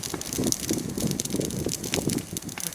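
Wind gusting over a burning, smoldering brush pile on a cleared lot, a continuous rough roaring rush with crackly texture, loud and close, without pause.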